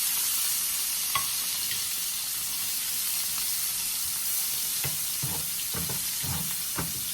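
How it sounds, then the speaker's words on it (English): Shrimp sautéing in bacon grease in a skillet for egg foo young, giving a steady close-up sizzle with a few sharp stirring clicks and scrapes near the end. "Let's go ahead and give our shrimp a quick saute in our bacon grease."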